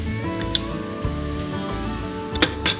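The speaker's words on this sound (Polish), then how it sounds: "Ok, mięso się smaży." Wild boar meat frying in a pan with tomato paste, giving a steady, close sizzle with a few sharp clinks of a utensil against the pan and no voices.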